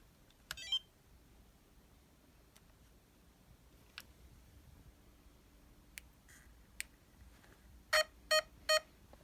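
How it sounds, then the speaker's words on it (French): Three short electronic beeps from a Hobbywing AXE R2 speed controller confirming a 3S battery, clear and evenly spaced near the end after faint clicks and ticks in a quiet room. "On a bien les 3 bips pour dire que c'est en 3S"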